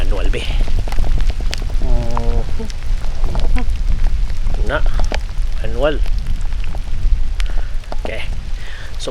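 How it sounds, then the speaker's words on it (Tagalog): Steady rain patters on a hike at Mount Dandenong, a constant close hiss under someone talking throughout. "nagaulan-ulan sa akong lens oh"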